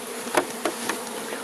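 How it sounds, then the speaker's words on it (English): Honey bees buzz steadily around an opened hive during a spring check, a close, dense hum with a few louder passes of individual bees near the microphone. "Lots of bees here."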